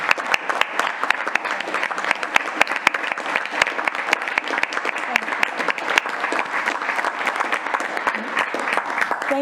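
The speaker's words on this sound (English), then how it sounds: "we owe you a big round of applause for what you do every day" A city council meeting audience in Corpus Christi gives the standing water team a sustained round of applause, with many hands clapping steadily at moderate volume, sharp individual claps standing out from the crowd, and faint voices underneath.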